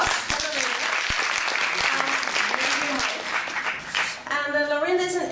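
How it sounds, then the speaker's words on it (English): Warm applause from a conference audience at an event on language diversity in Amsterdam welcomes the final presenter, a dense steady clatter of clapping that fades near the end as a voice starts speaking. "Yeah, warm applause."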